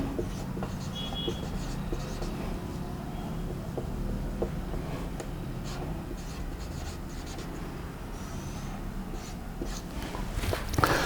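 Pen scratches across paper in short strokes while a maths problem on quadratic equations is worked out by hand, close and soft over a faint room hum.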